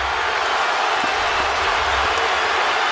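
A basketball arena crowd in Toronto's Air Canada Centre cheers loudly during an NBA game, a dense, continuous roar of voices and applause with no breaks.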